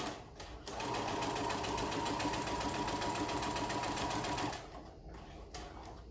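A sewing machine runs steadily for several seconds while stitching white fabric, starting after a brief pause and then stopping near the end with a quiet lull and faint handling noises afterward.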